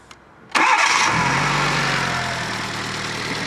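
A cold Fiat Panda 4x4 Sisley with upgraded fuel injection cranks briefly with no choke, then catches and settles into a steady, close idle.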